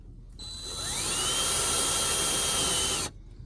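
A cordless drill drives a screw into RV flooring, a single whirring burst that spins up in pitch, holds steady for about two seconds, then stops abruptly, close and loud.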